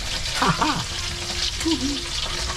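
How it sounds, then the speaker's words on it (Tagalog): Fish frying in a pan gives a steady close sizzle and crackle throughout, with a brief voice sound and a faint tonal whine over it. "Paprito-prito lang tayo."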